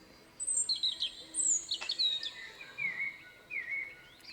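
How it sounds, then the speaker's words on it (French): A European robin sings alone outdoors, a run of high, thin, warbling phrases and trills with short pauses between them, fairly close and clear over quiet background. "il y a toujours un rouge-gorge qui se met à chanter"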